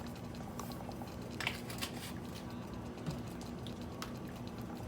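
Pizza sauce simmers in a pan with soft, faint bubbling and scattered small pops and ticks, quiet and close, with no voices.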